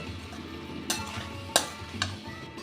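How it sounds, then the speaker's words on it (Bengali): Radish being sautéed with spices in a pan, a soft steady sizzle broken by a few sharp scraping stirs of a utensil against the pan, close by with no talking. "দিয়ে মশলার সাথে খুব ভালো করে এটাও কষিয়ে নেব"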